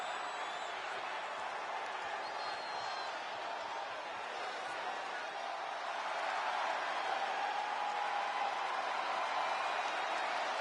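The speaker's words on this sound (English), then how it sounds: "Listen to that crowd!" Arena crowd cheering in the WWE 2K24 wrestling game, a steady, dense roar that swells slightly louder in the second half, with no clear speech over it.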